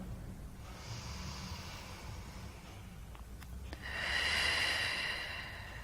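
Deep, slow breaths during a Pilates exercise: a long airy inhale, then a louder, fuller exhale through the nose and mouth, close and unaccompanied.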